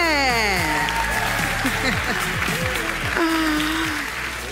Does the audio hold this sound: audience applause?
yes